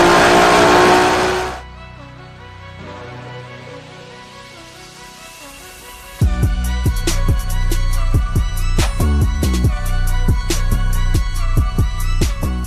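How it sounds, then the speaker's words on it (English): Modern-built 1994 Toyota Supra Mark IV with a turbo engine on E85, loud and close, starting with a burst of broadband roar, then a quieter idle stretch, then a sustained engine run with rapid rhythmic pulses. "It is time to dyno tune our modern day Mark IV Toyota Supra."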